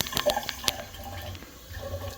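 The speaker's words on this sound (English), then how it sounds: "Let's go ahead and run some water." Water runs from a sink faucet into a newly installed drain, a close, uneven splashing and trickling with a few sharp clicks early on, then gurgling flow.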